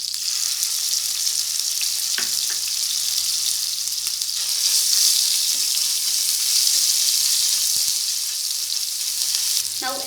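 Green chilies, cumin and ginger garlic paste frying in a pan for egg gravy, giving a steady close sizzle throughout with a few faint clinks, no talking.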